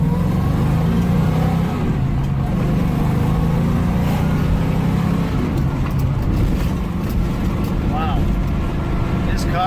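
A Ford Mustang with a 351 Cleveland V8 pulls away and accelerates, its engine a deep, loud rumble that rises and then settles. Someone talks over it.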